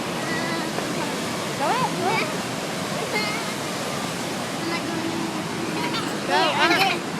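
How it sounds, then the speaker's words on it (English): A waterfall in a downtown setting pours with a steady, even rushing roar that fills the whole stretch, while an adult and someone talk over it. "I want to record the waterfall."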